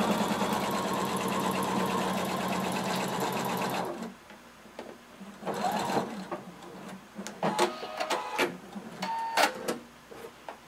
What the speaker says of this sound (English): You're going to sew the other shoulder the same way.